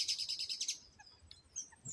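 Bird chirps close by, called a pear bird, in a dense run of bright repeated tweets over the first second, then a few scattered faint calls among fruit trees and plants.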